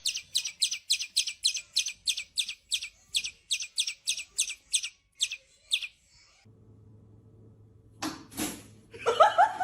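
Birds give a rapid series of about fifteen sharp, loud chirps over six seconds, followed by a low hum and some louder rustling and calls near the end.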